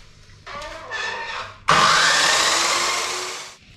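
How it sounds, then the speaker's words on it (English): Power saw cutting a metal support bar to length for a Unimog expedition truck cab, two bursts: a shorter cut, then a louder, sustained high-pitched grinding cut that fades out at the end. "So we'll cut it to the right length now."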